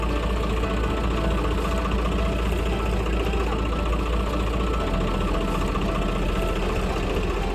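A tractor engine idles near the Attari border, a loud, steady low rumble with a constant throbbing chug that holds without a break and no voices over it.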